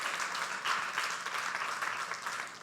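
A congregation applauds during a Spanish-language worship service in church, a moderate, steady spread of clapping from many people that sounds somewhat distant and fairly soft.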